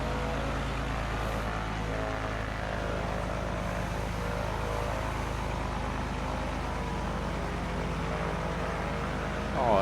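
Propeller aircraft rolls from a runway onto a taxiway in Microsoft Flight Simulator, a steady low engine drone held at an even level throughout with no other sounds over it.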